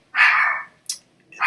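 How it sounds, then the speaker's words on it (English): A dog barks in the background indoors, one drawn-out bark followed by a short sharp yip and the start of another bark, fairly close and clear. "I apologize for my dog in the background."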